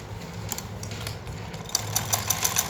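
A sewing machine stitching samosa-cut pajama fabric, short mechanical bursts of rapid needle clatter with a low motor hum, stopping and starting as the seam is sewn back and forth up close.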